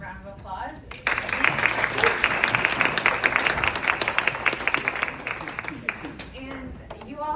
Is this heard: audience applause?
yes